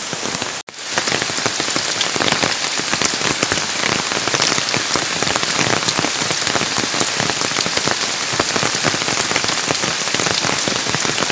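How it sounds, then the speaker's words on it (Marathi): Heavy monsoon rain pours steadily in Ratnagiri, a dense, even hiss of drops drumming on surfaces, loud and unbroken apart from one brief dip near the start. "आता असा पाऊस पडतोय की चिखल करण्यासाठी पाऊस पडतोय."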